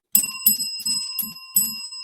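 A bicycle bell rings five times in a steady rhythm, each bright metallic ding close and loud with a short ringing decay, at an outdoor classic car meet.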